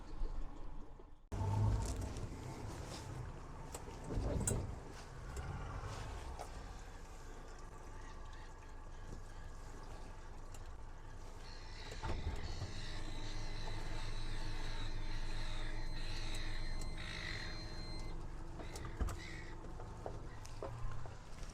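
A CruiseCraft F360M casting boat runs across a choppy bay, its engine droning steadily with broad wind and water rush throughout, building slightly louder partway through.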